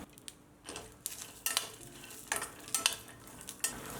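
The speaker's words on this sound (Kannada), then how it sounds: "ಸ್ವಲ್ಪ ಹುರಿದಿದೆ, ಇನ್ನೊಂದು ಸ್ವಲ್ಪ ಹುರ್ಕೊಳ್ಳೋಣ. ಕೈ ಬಿಡದೆ ಕೈ ಆಡಿಸ್ತಾ ಇರಬೇಕು." Peanuts and curry leaves frying gently in oil over a low flame, stirred constantly: soft sizzle under irregular scraping and clinking of a spoon against the pan, fairly quiet and close.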